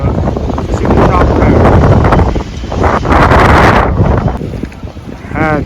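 Gale-force southwesterly wind buffets the microphone outdoors, loud roaring gusts that surge and ease in waves, with brief stretches of a voice talking underneath.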